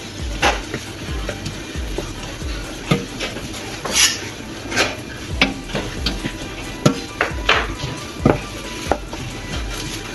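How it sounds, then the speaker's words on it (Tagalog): Dill stirred through caramelized onion in a pan, with a utensil scraping and tapping in an irregular rhythm of close knocks over a steady low sizzle, no voices. "Haluin natin ng maayos yung dill."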